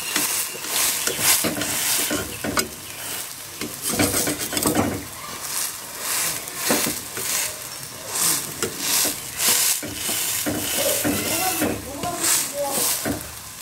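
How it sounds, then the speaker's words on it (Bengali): Polta leaf fritters (bora) frying in a pan of oil, a busy crackling sizzle broken by bursts of spatter and stirring scrapes, close and fairly loud, with no talk over it. "এটাকে 1 মিনিট ভাজাতে দিচ্ছি"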